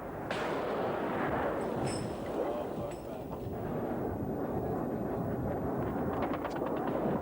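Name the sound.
anti-aircraft flak fire at a Su-25 jet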